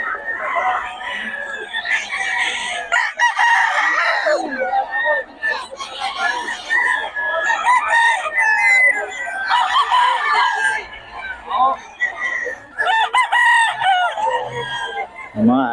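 A rooster crows repeatedly at close range, its loud, drawn-out calls recurring every few seconds while people talk nearby.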